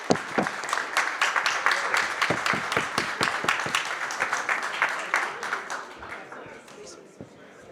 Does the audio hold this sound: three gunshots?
no